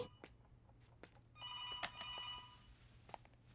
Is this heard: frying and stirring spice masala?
no